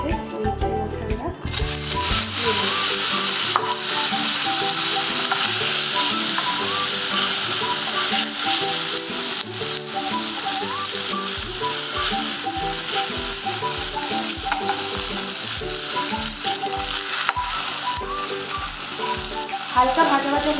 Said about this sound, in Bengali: হালকা ভাজা ভাজা হয়ে গেলেই পনিরটা এখান থেকে তুলে নিতে হবে।